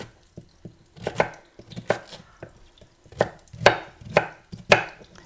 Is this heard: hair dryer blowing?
no